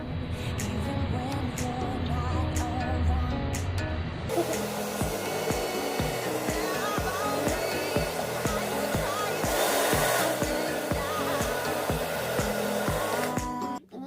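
A cheap hair dryer with a heat-setting control starts after a few seconds of quieter room sound, then runs as a loud, steady whooshing blower hum until it cuts off at the end.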